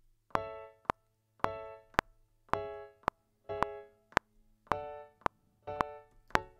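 Short quarter-note synth stabs land on beats two and four in a steady pattern, each a bright harmonic chord hit followed by a sharp click, repeating evenly and alone with no voices.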